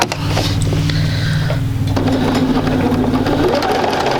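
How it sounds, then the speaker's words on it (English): Sewing machine stitching a quarter-inch seam on a quilt sampler block, a loud close rapid mechanical whirring hum running continuously, with a slight shift in pitch partway through. "what I'm going to do is just turn my unit around and sew that at 1/4 of an inch"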